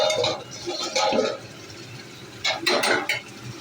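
A cooking-pot lid is lifted off a simmering pot of pointed gourd, giving a few close metallic clinks and scrapes in two short bursts with quieter bubbling between.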